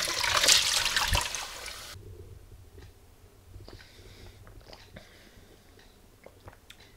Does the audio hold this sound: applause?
no